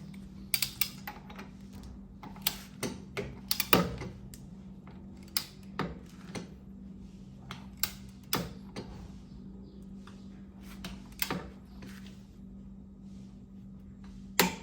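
A torque wrench tightens the front pulley of a Honda Vario 160 CVT, giving sharp, close, dry clicks that come in irregular clusters over a low, steady hum.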